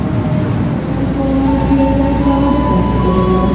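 Gunung Jati passenger train pulling into Tegal station, a steady loud rumble of rolling carriages with faint sustained wheel or brake tones rising over the constant low drone.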